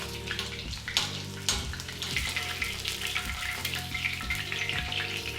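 Chicken katsu fries in a pan of hot oil while a spoon bastes the top, a close, steady sizzle with intermittent splashing and scraping bursts, no talking.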